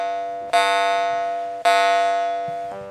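A Palmopole G2 jaw harp from Estonia rings out with clean, bell-like twangs, two strong plucked strikes each decaying slowly, then a softer third pluck near the end, heard up close with no voices.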